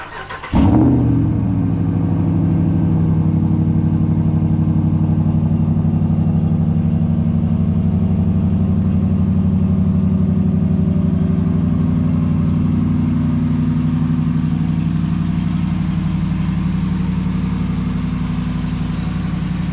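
A truck engine cranks and catches, then settles into a steady, loud idle close by. The low rumble holds for nearly twenty seconds with no talk over it.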